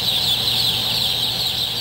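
A dense, steady chorus of high chick peeping fills a rearing pen with no voices, constant and fairly close throughout.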